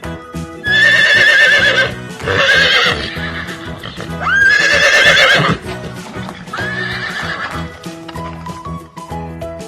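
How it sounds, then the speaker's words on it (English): Horse neighing in long, shrill whinnies, loud and close, with a few separate calls and a faint music track underneath. "Horse."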